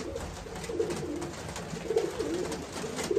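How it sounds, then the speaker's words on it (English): Soft, low cooing from a blue bar pigeon at a loft repeats in rolling phrases over a steady background hum, fairly close and continuous throughout. "Nice little bird."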